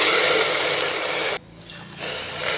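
Water poured into a pressure cooker holding washed toor dal, a steady splashing stream that breaks off briefly partway and then resumes.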